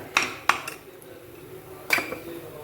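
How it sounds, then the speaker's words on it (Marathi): A few sharp metallic clinks of a spoon against a pan while custard apple barfi mixture is sautéed and stirred in ghee, three distinct knocks spread over a quiet background. "मी थोडंसं तूप घालून घेते एवढंसं म्हणजे हे व्यवस्थित परतायला मला मदत होईल"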